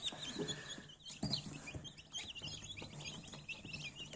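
A brood of Black Copper Marans chicks peeps and chirps in a steady, overlapping chorus, close by and moderately loud, with a few louder calls standing out.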